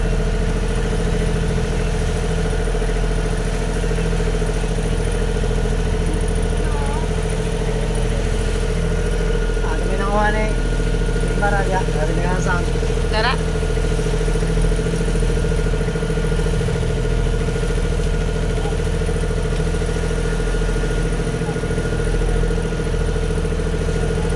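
A small fishing boat's engine drones steadily at sea throughout, a low continuous hum with faint bird chirps briefly rising above it in the middle.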